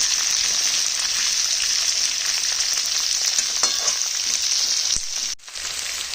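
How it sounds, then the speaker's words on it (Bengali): Chopped onions, three fairly large ones, fry in a pan with a dense, steady sizzle that runs close and loud throughout, dropping out briefly near the end before resuming; no one speaks. "পেঁয়াজ ভাজা চলছে, এখনো আরও একটু ভাজা হবে, কিন্তু পেঁয়াজগুলো জ্বলবে না।"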